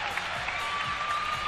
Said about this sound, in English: the crowd is really happy with that routine.